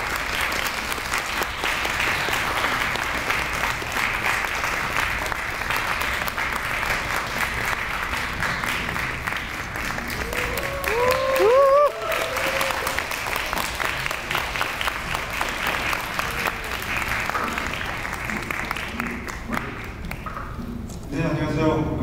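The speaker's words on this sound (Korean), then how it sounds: "박수 부탁드립니다" A large audience at a film director's talk event claps steadily and loudly for over twenty seconds, with a brief voice rising above the applause midway before the clapping thins out at the end.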